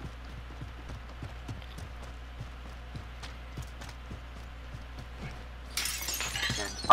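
Glass shatters loudly near the end of a video game sequence as the player crashes through it, following a run of steady footstep-like clops over a low background hum.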